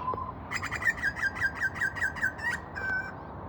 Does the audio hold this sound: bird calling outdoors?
yes